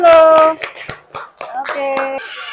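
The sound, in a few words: children clapping hands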